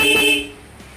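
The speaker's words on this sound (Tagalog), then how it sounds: "pero yan, patay ang makina, bumusina" A car horn gives one short honk with the engine switched off during a relay wiring test, the tone cutting off quickly and leaving a quiet tail.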